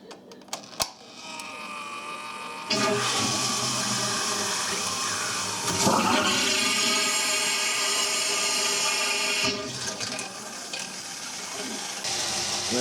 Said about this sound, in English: I can actually look right in that drain and see the water going through